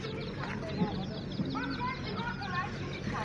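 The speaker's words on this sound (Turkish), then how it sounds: "Burada da ördekler." Ducks quack and chatter in a small group outdoors in Nevşehir, Turkey, with people talking nearby and a busy background murmur.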